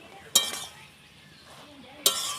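Pumpkin leaves are stirred in a pot after the lid is lifted, giving two sharp metallic clinks of utensil against pot about two seconds apart, with soft quiet scraping in between.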